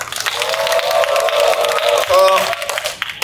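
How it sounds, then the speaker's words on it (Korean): A crowd at a construction workers' rally outside Anyang Station claps and cheers under amplified sound, the applause spreading across the gathering while a tonal, musical or vocal drone rises over it. "박상국 동지께 다시 한번 뜨거운 박수 보내주시기 바랍니다"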